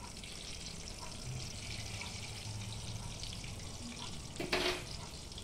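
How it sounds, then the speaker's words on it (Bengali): Potato-stuffed eggplant beguni frying in oil in a wok, a steady broadband sizzle throughout with a brief louder burst near the end as pieces are turned. "বাকিগুলো এবার কড়াইতে দিয়ে দিলাম, আর ঠিক ওই একইভাবে বেগুনগুলোকে উল্টে পাল্টে করে লালচে করে ভেজে নেব।"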